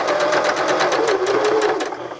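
A sewing machine stitches fabric in a fast, even run of mechanical needle clatter with a whirring motor, loud and close, slowing slightly at the end with no talk.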